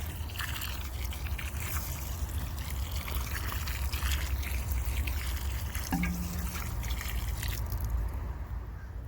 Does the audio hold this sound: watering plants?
yes